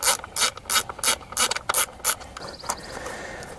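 A ratchet wrench loosens the 10mm coil pack bolts on a Chrysler 200 3.6L V6, a close run of about ten quick clicking bursts in an even rhythm, then a brief quieter pause.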